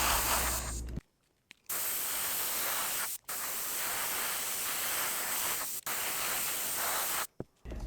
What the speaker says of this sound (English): when I'm spraying them in the makeshift bronze that I made